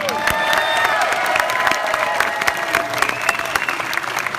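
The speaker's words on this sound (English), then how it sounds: "Round of applause once again." A crowd applauds steadily at a Los Angeles Chargers NFL ceremony, dense clapping with scattered cheers and whistles, loud and close throughout.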